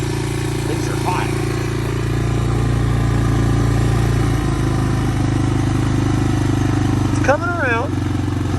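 A 1985 Honda ATC 250SX three-wheeler sits at a steady, close idle with an even low drone throughout, while brief voices break in near the start and end.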